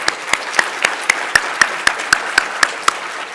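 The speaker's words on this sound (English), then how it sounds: "If you could join me in a round of applause." Steady, evenly spaced claps, roughly four per second, crisp and fairly close, continuing without a break: conference audience applause.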